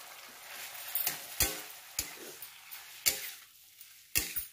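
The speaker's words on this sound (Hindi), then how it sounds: "और अच्छे से इसको थोड़ी देर भुनने देंगे" Mashed potato and peas frying in a pan for samosa filling, giving a soft background sizzle broken by several crisp scraping strokes of a spoon, each louder than the hiss, with no talk.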